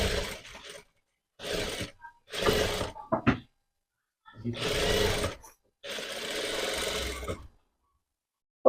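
Domestic sewing machine stitching the sleeve of a chatta blouse, running in several separate bursts of steady whirring, close and fairly loud, with short pauses between runs.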